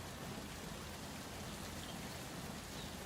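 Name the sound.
rain in Run 8 train simulator video game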